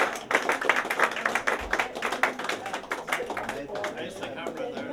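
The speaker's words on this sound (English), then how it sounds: "And a big round of applause." Audience clapping at an award presentation, a loose patter of individual claps that fades gradually, with speech mixed in underneath.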